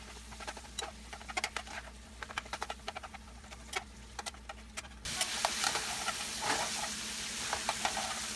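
Chili spices of garlic salt and cayenne pepper being stirred into a pot, a soft patter of light scraping and mixing taps that grows into a steadier, louder sizzling rustle partway through, with no talk.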